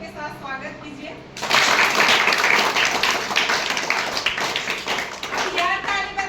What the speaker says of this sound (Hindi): तालियों के साथ स्वागत कीजिए।